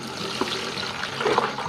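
Soaking water poured off vanilla beans, a continuous close splashing trickle of liquid with brief gurgles, moderately loud and steady throughout.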